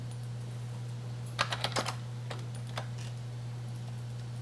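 Quick burst of keystrokes on a computer keyboard, a short flurry of clicks followed by a couple of isolated taps, close by over a steady low electrical hum with no talking.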